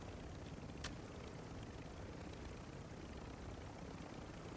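A steady helicopter rotor drone from a shooter video game runs faintly and evenly throughout, with a brief click near the start and no speech.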